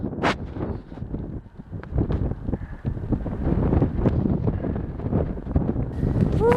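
Gusty wind on a mountain trail buffets the microphone in low rumbling bursts, with irregular thumps and rustles throughout.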